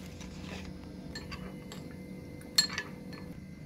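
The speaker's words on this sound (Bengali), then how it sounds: "এই পাশে আমি এবার কর্নফ্লাওয়ারটা গুলে রাখছি" A spoon stirs cornflour into water for vegetable soup, making faint scraping and light taps against a bowl, then one sharper clink near the end, all quiet over a steady background hum.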